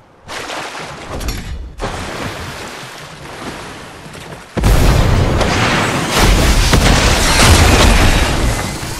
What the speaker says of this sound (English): I got a rocket ram.